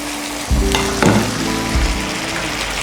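Wine poured into a hot pan of toasted risotto rice, bursting into a loud close sizzle and bubbling hiss with a few sharp spikes as it hits the pan, sustained throughout.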